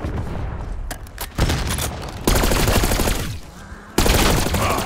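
Frag grenade blast and gunfire in Call of Duty Black Ops 6 Zombies on Terminus, loud bursts of shots and booming impacts recurring every second or so, close and dense.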